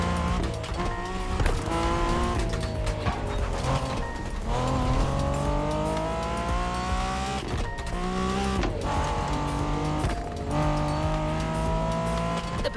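BMW Z4 M40i roadster driving in the racing game The Crew Motorfest, with a steady engine note that climbs and drops as it shifts through the gears. Tire squeal and background music run loud and continuous throughout.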